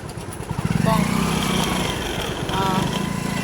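A motorcycle engine running close by with a steady, throbbing low rumble that swells after the first second and holds, rising again slightly near the end, with no talk over it.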